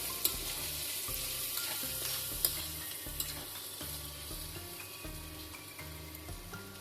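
Turmeric being stirred into a tindora and tomato curry in a pan, with a steady close sizzle of frying and rhythmic scraping strokes of a spoon against the pan, no talk over it.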